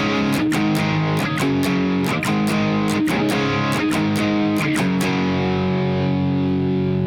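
Distorted electric guitar chugs a driving power chord rhythm, with steady palm-muted strums and sharp accents landing at regular intervals, loud and alone, ending on a ringing sustained chord.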